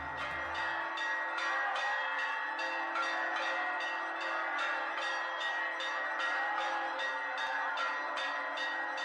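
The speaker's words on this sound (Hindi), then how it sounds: "दोपहर 12 बजे जैसे ही सूर्य देवता का ताप रामलला के मस्तक तक पहुंचा, राम मंदिर परिसर शंख और घंटियों से गूंज उठा।" Temple bells and conch shells ring out at the Ram temple complex in Ayodhya at noon on Ram Navami. Rapid, evenly spaced bell strikes run continuously over a sustained droning tone, dense and steady throughout.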